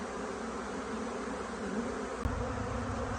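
Honey bees swarming around a freshly lidded capture hive fill the air with a thick, constant buzz up close, with one brief knock near the end.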